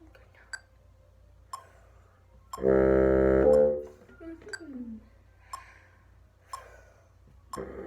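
Sharp, evenly spaced metronome clicks tick at 60 bpm, about once per second, with a sustained instrument note swelling in the middle and fading off.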